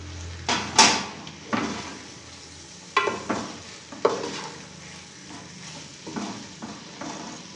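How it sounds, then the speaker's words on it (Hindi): A spoon stirs coriander leaves into cooked mixed vegetables of potato, peas and carrot in a pan, with a soft sizzle under a few sharp scraping strokes spaced a second or so apart, close up. "और धनिया को मिक्स करेंगे अच्छी तरह"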